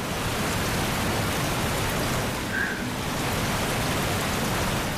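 A rushing waterfall in the video game Far Cry 3, a steady, dense hiss of falling water filling the whole stretch at an even level, with no voices.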